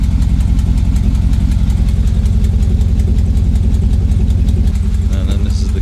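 A 6.2-litre V8 swapped into a GMC Sierra 1500 pickup idles with a side dump exhaust, a steady loud low rumble close by that runs unbroken throughout.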